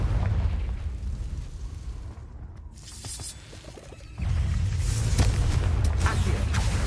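A fiery Confringo spell from Hogwarts Legacy bursts with a loud, rumbling boom, its low roar fading into a quieter stretch before a second heavy blast swells and keeps rolling to the end amid busy combat noise.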